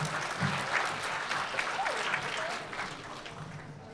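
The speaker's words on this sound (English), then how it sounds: "Let's give them a round of applause for that." Audience applause at a summit session, a steady wash of many hands clapping through the room for several seconds, with a voice briefly heard over it.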